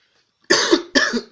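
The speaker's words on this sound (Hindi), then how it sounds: "खांसी ने ना परेशान कर दिया।" Two sharp, close coughs in quick succession, each a harsh burst with a short rasping tail, against otherwise quiet surroundings.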